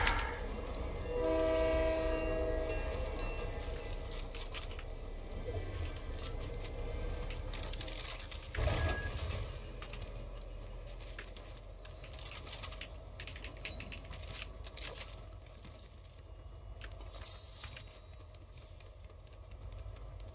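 A train rumbles past in the video game Fortnite with a long steady roar, and a horn-like tone sounds early on. Keyboard clicking from the player runs over it throughout.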